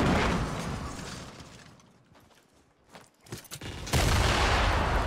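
C4 charges blowing apart structures in Fortnite: a loud burst of blast noise fades into a lull, a few sharp pops and crackles follow, then another heavy explosion erupts and holds loud to the end.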